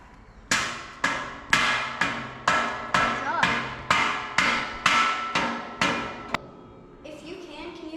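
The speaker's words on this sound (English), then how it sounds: "If you can you like cross your arm over and hammer that?" A hammer strikes metal again and again while a pre-fab metal building is being put together, ten even, ringing blows with a short decay on each one, close and fairly loud, followed by faint background noise.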